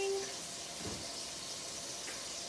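A kitchen tap runs while hands are washed after handling raw chicken during cooking, a steady, fairly soft hiss of flowing water with faint splashing.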